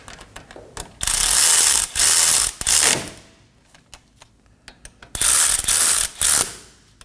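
A ratchet snugs brake caliper bolts on a 2015-2023 Nissan Maxima, loud close bursts of rapid clicking in three runs, then a pause with scattered ticks before three more bursts.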